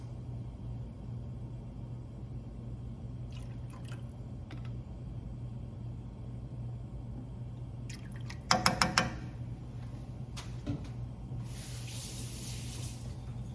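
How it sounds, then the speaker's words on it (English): Kitchen tap running steadily while something is rinsed under it, a constant close water hiss with a brief cluster of clatters and splashes midway. "Rinse that off."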